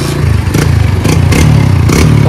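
A Hero Splendor motorcycle fitted with its original silencer, engine revving loudly and steadily close by, with a rough mid-pitched exhaust drone and a few repeated surges over a couple of seconds.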